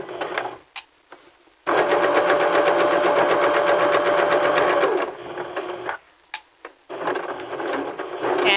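A sewing machine stitches fabric slowly around a curved edge in several close, loud runs of rapid mechanical whirring, separated by brief pauses and small clicks.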